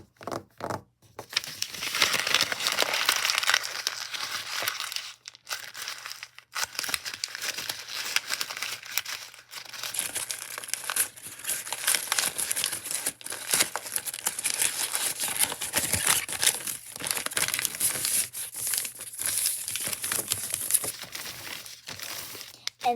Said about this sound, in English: I'm going to do some ASMR and I'm just going to scribble all down here